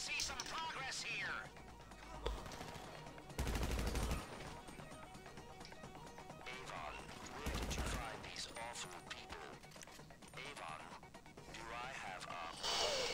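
Bursts of automatic gunfire in the video game GTA V crack out in two short, sharp volleys amid game sounds, with a person talking throughout.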